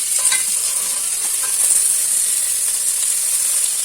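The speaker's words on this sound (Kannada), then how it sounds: "ಸಾಸಿವೆಲ್ಲ ಚೆನ್ನಾಗಿ ಚಿಟಪಟ ಆದಮೇಲೆ" Mustard seeds with a cinnamon stick, cloves and peppercorns crackle and sizzle in hot oil for a sambar tempering, a steady close hiss with small pops as the pan is stirred, no talking.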